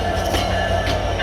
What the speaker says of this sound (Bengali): এই যে ট্রেনটা, খুলনাগামী ট্রেন